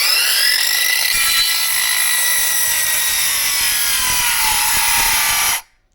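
A Ronix cordless circular saw runs at full speed through a long cut, a loud steady high whine with rising harmonics that holds for over five seconds, then cuts off abruptly.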